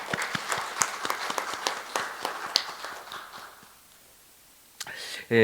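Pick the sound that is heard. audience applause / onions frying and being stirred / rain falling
audience applause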